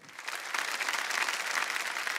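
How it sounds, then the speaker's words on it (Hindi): A crowd at Aap Ki Adalat's 21st anniversary gala bursts into applause for an actress, dense clapping that swells after a quieter start and holds steady throughout. "एक बार जोरदार तालियां बजाए हेमा जी के लिए"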